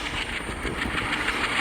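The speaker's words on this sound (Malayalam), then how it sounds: "ഇപ്പം ഏതോ ട്രെയിൻ പോകാനുണ്ടെന്ന് തോന്നുന്നു." A train rolls past a railway crossing with a rhythmic clickety-clack of wheels on rails, steady and fairly close, with no talk.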